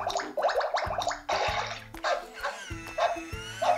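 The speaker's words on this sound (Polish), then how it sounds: "bezproblemowo Piksel w tej chwili wziął bąbelkową kąpiel." A Piksel interactive electronic toy dog plays its bubble bath sound effect: synthetic gurgling water, bubbly splashes and short electronic tones in a quick patterned sequence, close and fairly quiet.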